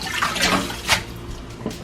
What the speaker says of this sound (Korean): 바로 찬물에서 두세 번 씻어서 열기를 빼주시면 됩니다